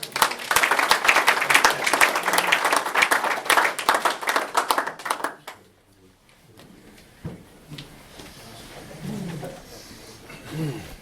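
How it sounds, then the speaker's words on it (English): An audience claps loudly and densely for about five seconds, then the applause stops abruptly, leaving quiet room noise and a few soft voices. "Let's give them another round of applause."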